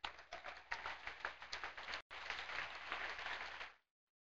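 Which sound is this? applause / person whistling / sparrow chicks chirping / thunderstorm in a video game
applause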